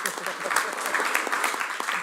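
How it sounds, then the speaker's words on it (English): Brief applause from a summit audience, a steady patter of many hands clapping for a couple of seconds with some talk mixed in. "maybe a round of applause for him"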